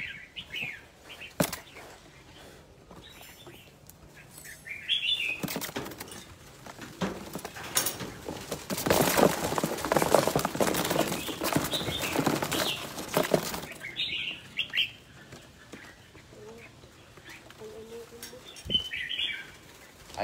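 Birds flap their wings in a noisy burst that swells through the middle, with scattered chirps and calls before and after, near and moderately loud.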